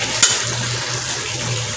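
Potatoes sizzle in hot oil in a frying pan, making a steady, close hiss with a light clink near the start.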